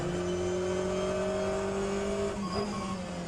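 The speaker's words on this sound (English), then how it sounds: "there's a faster car approaching" Race car engine in the rFactor 2 endurance race at Spa, a steady droning tone with a faster car closing and briefly shifting pitch near the end, no voices.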